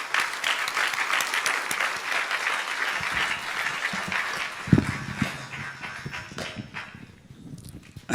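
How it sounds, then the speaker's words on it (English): An audience at a children's day program applauds the parents, with a dense crowd of clapping that thins and fades toward the end, where a few scattered claps and a loud thump stand out. "So can we have a round of applause to all the parents?"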